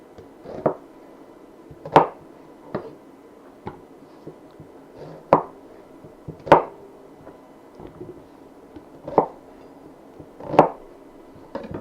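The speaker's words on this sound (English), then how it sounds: "Alright, so we're just going to rough cut these, you know, about an inch." A knife chops vegetables on a cutting board into inch-sized pieces, about seven firm, spaced thuds with a few softer taps between, close and fairly quiet with no talking.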